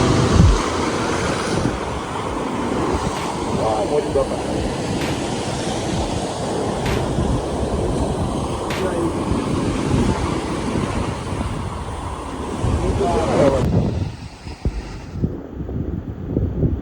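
Sea waves at Dwarka surge and splash in a constant loud wash with wind buffeting the microphone, ending abruptly near the close.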